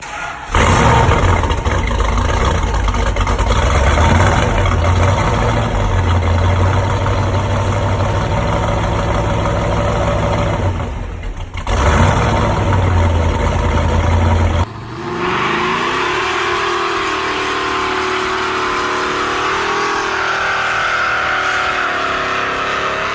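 A Dodge Charger R/T muscle car from the 1960s-70s idles and revs loudly up close, a deep steady engine roar with a brief dip, then a shift to a lighter, changing drone in the final stretch.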